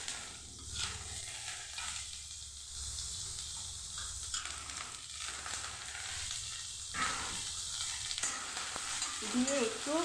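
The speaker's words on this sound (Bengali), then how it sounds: "দিয়ে একটু ভেজে নেব।" Cabbage, carrot and tomato fry in a pan, a soft, steady sizzle with occasional stirring and scraping, fairly quiet and nearly free of talk.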